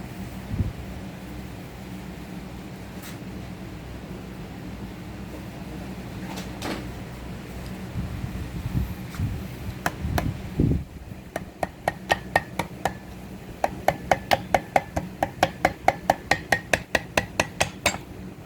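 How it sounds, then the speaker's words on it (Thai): Gentle tapping on a stuck water pump part with a rubber mallet, irregular knocks at first, then a quicker run of evenly spaced light taps near the end, close and fairly soft. "ให้ใช้ค้อนยางนะครับ หรือไม้ค่อยๆเคาะเบาๆนะครับ"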